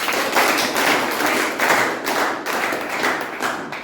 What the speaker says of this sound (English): let's clap for 5 seconds so that we can get our attention back